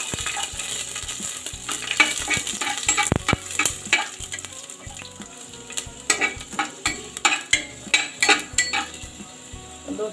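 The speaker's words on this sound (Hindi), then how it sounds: "अब मैं सबसे पहले इसमें लहसुन की कलियां डालूंगी," Whole garlic cloves sizzle in hot oil in a pan while a metal spoon scrapes and stirs, producing steady frying hiss with repeated rhythmic scraping clinks that grow more regular toward the end.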